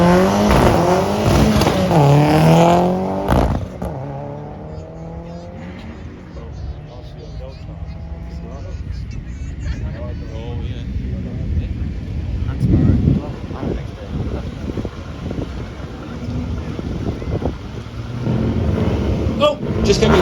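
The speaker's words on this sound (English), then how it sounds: "This George Anderson driving this period rally car, Celica ST165 GT4, 2-litre turbo." A 1989 Toyota Celica ST165 GT4 2-litre turbo rally car running down a hill at a classic car event, its engine revving loudly and passing near, with a commentator talking over it.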